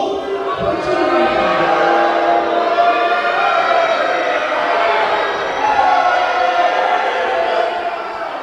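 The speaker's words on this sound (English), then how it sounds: "he got greeted with a big chorus of boos" A wrestling crowd loudly booing the referee as he comes out to the ring, a sustained dense chorus of jeering voices filling the whole stretch without letup.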